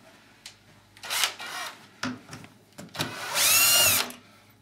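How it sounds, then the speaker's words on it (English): Cordless screw gun backing screws out of the roller assembly at the bottom of a patio door, a few short whirring bursts of varying length, close and fairly loud with brief pauses between them. "Using a screw gun,"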